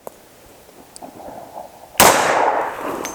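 A single loud, sharp blast from a Glock 20 pistol firing 10mm Federal HST 200-grain ammunition, bursting out after a quiet lead-in and ringing off into a long decaying echo.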